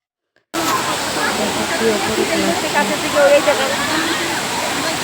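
Steady rushing roar of Bamni waterfall in the Ajodhya hills, water pouring down continuously and fairly close, with faint voices mixed into the broadband wash after a brief silent start.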